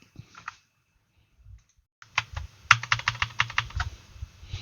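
Quick bursts of keystrokes on a computer keyboard, close and fairly loud, start halfway in after a near-silent pause with a few faint clicks, then rattle on in an uneven rhythm.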